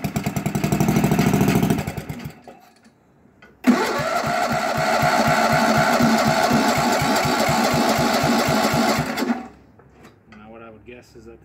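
An Onan 16hp engine on a Sears Suburban hydro tractor fires and runs at part throttle with a steady, loud, rapid chugging for several seconds, then cuts out. Brief earlier cranking precedes it, and a voice speaks afterward.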